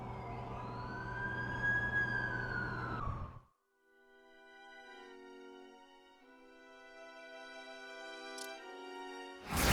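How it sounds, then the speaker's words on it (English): An ambulance siren wails steadily in The Amazing Spider-Man 2 game, loud at first. It cuts out abruptly midway, leaving a quieter tonal game soundscape. "That's the ambulance I called."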